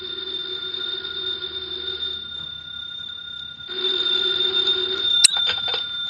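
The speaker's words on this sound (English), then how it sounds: "the phone in the Lawrence house on Berry Hill Lane began to jingle" An old-fashioned telephone bell rings inside a house on Berry Hill Lane, two sustained jangling bursts separated by a brief pause, clear and fairly close in a quiet room.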